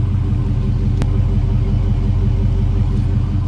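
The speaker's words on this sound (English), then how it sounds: "let's hear this car, how it sounds for the last time" A car's exhaust idles steadily with its stock mid-muffler still fitted, a close, continuous low rumble with even harmonic bands and no revving.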